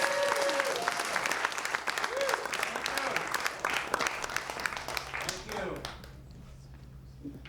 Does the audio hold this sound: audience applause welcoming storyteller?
yes